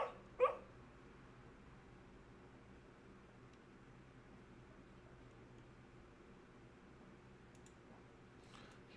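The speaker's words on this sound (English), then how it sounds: "You guys hear my dog in the background?" A sleeping dog whimpers and gives a short muffled bark while dreaming. One sharp yelp comes early, and faint stirring follows near the end. All of it stays quiet in the background over a low hum.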